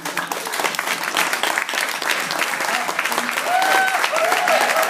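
An audience claps for standing trainers, a full, steady round of applause, fairly close, with a few brief voices rising through it near the end.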